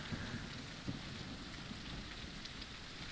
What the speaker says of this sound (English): But guess what? It's raining.